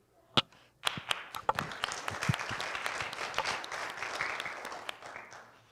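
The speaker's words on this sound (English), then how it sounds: "applauding because you came in" A gathering applauds at a spiritual talk, starting with a few sharp isolated claps that quickly build into steady, moderately distant clapping.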